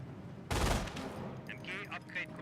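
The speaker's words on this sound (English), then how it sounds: "MG42 firing away" A burst of MG42 machine-gun fire in the real-time strategy game Company of Heroes arrives suddenly as a dense, loud rattle. It fades into a lingering background of battle noise with scattered higher-pitched effects.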